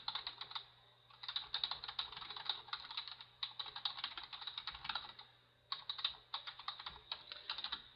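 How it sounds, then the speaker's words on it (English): Typing on a computer keyboard while writing a blog entry, heard as close, quick bursts of crisp key clicks with a few short pauses between runs, steady and alone with no voices. "just go ahead and type your text."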